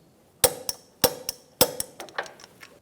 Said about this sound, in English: Torque the bottom nut to 70 foot-pounds